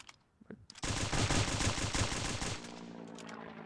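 Rapid sustained automatic fire from the V-war weapon in Stick Warfare Blood Strike, a dense loud burst of about two seconds preceded by a couple of faint clicks and trailing into a lower steady hum.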